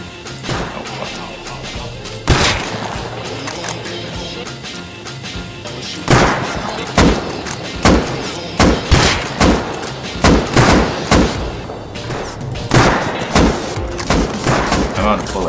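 Gunfire in the Rust game comes as scattered loud shots, sharp cracks and bursts clustering into rapid volleys with brief gaps, while a voice talks intermittently over the shooting.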